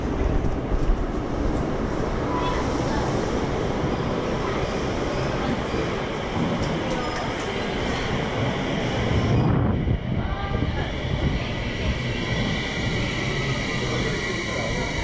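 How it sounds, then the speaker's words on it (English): Tsukuba Express train rolling out of Akihabara station in Japan, a loud continuous rumble and rush of wind with a brief shift partway through, while people speak over the noise. "So we're catching the train from Akihabara, TX."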